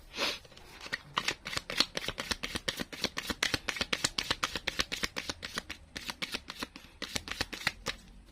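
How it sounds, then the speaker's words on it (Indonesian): Tarot cards being shuffled in rapid, crisp riffling bursts, a steady run of sharp flutters repeating for several seconds, close and clear with no talk over it. "Kita shuffle lagi kartu kedua ya Gemini ya"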